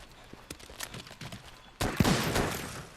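Stacked ammo going off in Monster Hunter World with a light bowgun: a few light pops and clicks, then a loud burst of overlapping blasts and crackling explosions that trail off over the last second.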